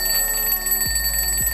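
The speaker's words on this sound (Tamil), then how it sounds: "இப்போது பேட்டரி போட்டு நீங்கள் வந்து டைம் செட் பண்ணிவிட்டு அலாரம் ஆன் பண்ணிட்டீங்கன்னா" A battery-powered alarm clock rings with a continuous loud, high electronic tone, heard close and alone, with a couple of low thumps partway through.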